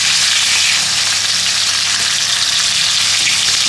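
Moong dal fries in a pan, giving a loud, dense, unbroken sizzle close by with no voices.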